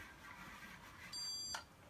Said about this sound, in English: Mark the stud when it beeps,